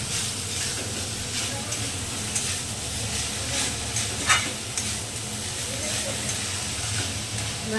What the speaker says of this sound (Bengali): আমি এখন থোরটা ভাজতেছি।